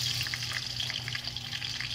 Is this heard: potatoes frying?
yes